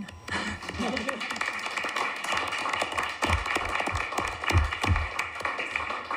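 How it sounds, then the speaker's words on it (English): Audience clapping at a parks and recreation commission meeting, scattered claps building into steady applause of moderate loudness with some thumps, heard at a distance in a meeting room. "We do not have to hold our applause."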